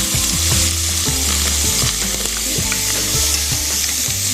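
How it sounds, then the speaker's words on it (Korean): Blanched burdock root stir-fries in oil in a pan, a loud, close, constant sizzle broken by repeated scraping and stirring strokes, with no one talking. "우엉을 넣어서 볶겠습니다."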